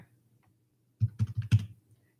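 Quiet button presses on a handheld calculator as data is entered, a short burst of about five soft, close taps in quick succession after a moment of near silence.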